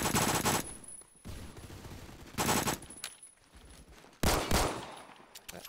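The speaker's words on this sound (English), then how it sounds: "That one shot in a pistol kills him." Gunfire in the video game Phantom Forces, pistol shots in an online match: three loud, sharp bursts spaced a couple of seconds apart, each cutting through a busy, noisy background of game sound.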